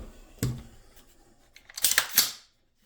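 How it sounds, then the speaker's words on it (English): An AR-style JP fire control trigger being pulled, giving faint, close mechanical clicks: one sharp snap early on, then a cluster of brighter metallic clicks near the end, with no talking. "Now I'll show you the JP trigger."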